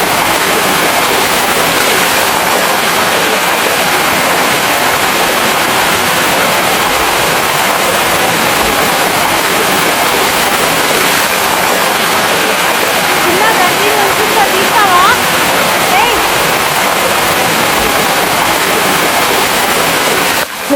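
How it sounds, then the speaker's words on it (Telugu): A South Goa waterfall roars as a loud, unbroken wash of falling water, close and constant from start to finish, with a voice talking faintly underneath. "వాటర్ ఫాల్ సూపర్గా ఉంది."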